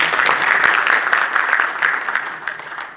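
An audience claps through a representatives' meeting of regional Christian councils in a hotel grand ballroom: steady, moderately loud applause with many overlapping hand claps, slowly fading over a few seconds.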